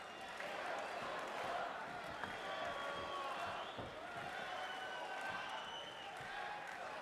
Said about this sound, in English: Crowd getting a little raucous here in Siemens Arena.